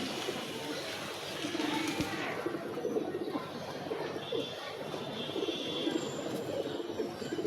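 Pigeons coo softly and repeatedly, close by, over a steady background hum, with a faint voice murmuring underneath.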